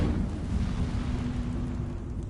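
A fiery Incendio spell from Hogwarts Legacy on PS5 gives off a loud, rumbling whoosh of flame, a steady roaring burst that fills the moment without speech.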